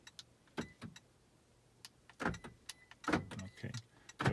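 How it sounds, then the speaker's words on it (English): A 2016 Toyota Prius unlocks and locks with a remote smart key fob: a few faint, short clicks and soft clunks from the door locks, spaced out over a quiet background. "So it's opening, locking the car, same way as the original."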